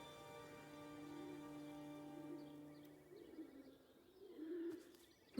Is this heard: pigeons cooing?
yes